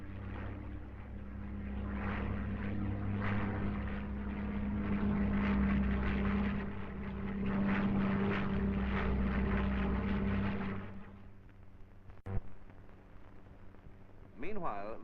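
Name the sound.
Supermarine Spitfire propeller fighter aircraft flying, archive footage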